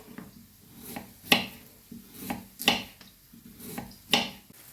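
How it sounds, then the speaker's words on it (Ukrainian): Sharp knife strikes land on a board as a carrot is cut into sticks, at a slow, uneven pace, about five distinct chops with quieter cutting in between. "Наріжу брусочками моркву."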